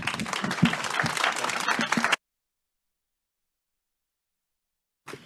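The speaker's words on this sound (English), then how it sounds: "join me in thanking the panel, please." Audience applause for a panel at a food policy research event, a dense round of clapping that fills the first two seconds, then cuts to silence before a brief burst returns at the end.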